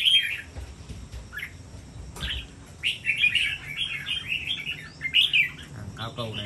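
A caged songbird chirps in quick, sharp bursts of bright tweets, close and fairly loud, with low background rumble and some handling noise.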